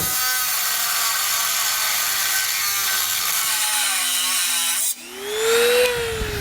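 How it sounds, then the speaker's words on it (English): Dremel rotary tool cutting into the body metal of a 2014 Honda CR-V, a loud steady high-pitched whine that dips briefly near the end and then climbs back up in pitch. "I'm going to grab a Dremel tool and cut that out."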